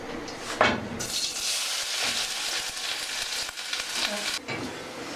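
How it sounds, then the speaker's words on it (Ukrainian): Chopped onion frying in hot oil in a well-heated pot, a steady close sizzle and crackle with a few knocks and stirring clatters, and no talking over it. "цибулька в нас вже підсмажилася золотистого кольору"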